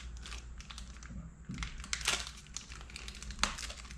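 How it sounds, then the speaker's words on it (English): Plastic packaging around a McFarlane DC Page Punchers Batman action figure crinkles and crunches up close in irregular bursts as it is pulled open, with no talking. "Gotta take it off the packaging"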